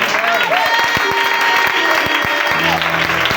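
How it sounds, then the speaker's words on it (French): A church congregation claps and cheers loudly, dense steady applause with whoops, whistles and voices mixed in. "Est-ce qu'on peut acclamer très fort?"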